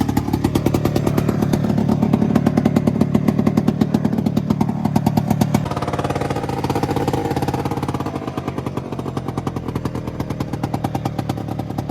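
A two-stroke engine on an old Attex 6x6 amphibious vehicle with flat tires runs steadily and loudly up close, a rapid buzzing rattle that shifts pitch midway as it drives.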